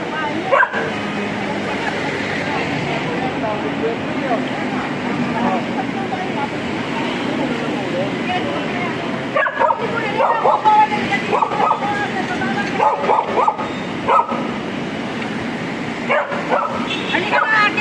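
Several dogs barking and yipping near a house being built in a clearing, loud, repeated and close, with people talking over and between the barks.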